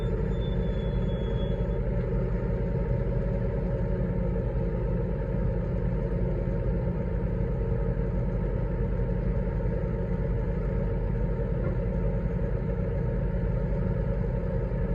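A tractor engine runs steadily while towing a bale trailer, a loud, continuous close-up drone with rattling clatter throughout.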